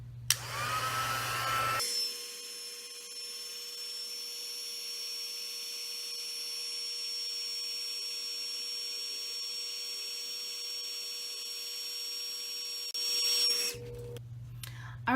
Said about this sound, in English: now I'm gonna bring in my Stampin' Up! Heat tool, and I'm gonna put it on the second setting and heat set this